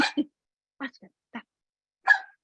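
A dog gives a few short, separated barks and yips at close range, spaced across the moment with silence between them.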